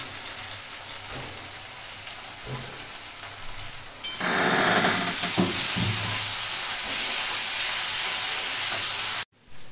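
Potatoes and onions fry in a hot pan for chowmein, a steady loud sizzle that starts abruptly about four seconds in and hisses evenly until it cuts off near the end, after a quieter stretch of faint clinks.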